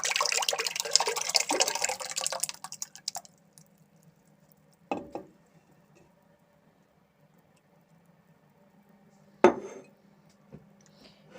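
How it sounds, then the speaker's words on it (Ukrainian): Fresh goat milk pours splashily into a pot for a couple of seconds, then fades to near quiet, with two short clinks of pots afterward. "Ми зараз його будемо переливати каструльку"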